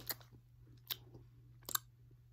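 Hi-Chew fruit candy being chewed: three sharp, sticky clicking smacks spaced apart, close to the mouth against a quiet background with a faint steady hum.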